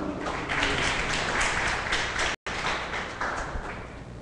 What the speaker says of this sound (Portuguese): Uma salva de palmas para o Fernando.